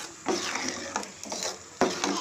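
A pot of salna curry being stirred, a metal spoon scraping and knocking against the pot in several separate strokes, close and fairly loud with short pauses between.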